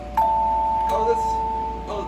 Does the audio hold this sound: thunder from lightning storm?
no